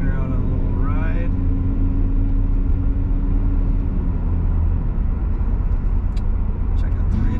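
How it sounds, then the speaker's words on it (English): A 2003 Chevrolet S10 Regular Cab LS pickup truck driving, its engine and road noise forming a steady low rumble heard from inside the cab, with brief speech near the start. "Here we are driving a 2003 Chevrolet S10"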